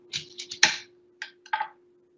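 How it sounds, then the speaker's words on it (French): A knife cuts an apple in half on a board with several quick, close clicks and taps, quiet and dry, with no talking. "je la coupe en deux"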